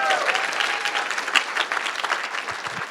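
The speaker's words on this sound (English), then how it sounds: "Round of applause for the sound guys" Applause from a town hall audience in Davenport, Iowa, a dense, sustained clatter of many hands clapping, steady and fairly loud throughout with slight swells.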